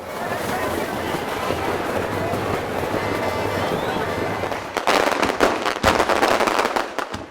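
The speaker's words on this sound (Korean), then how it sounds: "이번엔 폭죽을 터뜨릴 차례." At a Christmas street festival in Cuba, dense crackling firecrackers burst in a long rapid barrage, then sharper loud bangs pop irregularly near the end, with voices mixed in.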